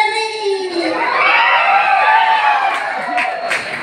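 A packed theatre audience at an Odia stage play erupts in loud, sustained cheering and shouting, a dense wash of crowd noise, with a few sharp claps near the end.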